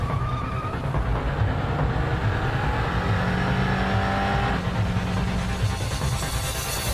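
Street racing cars roar as their engines rev and accelerate, a loud continuous engine drone with shifting pitch, close by, and no talk.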